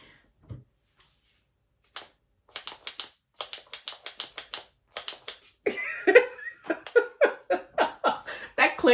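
Fenty Skin product package clicking shut: crisp, close plastic clicks that start sparse, then come in quick rhythmic runs, with soft breathing or light laughter underneath.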